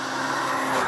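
A Fiat Abarth 595 in sport mode gives a brief, loud, raspy engine roar at speed, heard up close with no talk.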